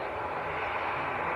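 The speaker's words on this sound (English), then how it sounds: "British Airways just touched down." A British Airways jet touches down at Manchester Airport, giving a short, steady burst of moderate engine roar and rushing air with no speech.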